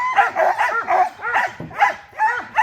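Sled dogs bark repeatedly in a loud, continuous chorus at a dog-sledding camp in Juneau, Alaska, the rhythmic yips and barks overlapping close by with no talk.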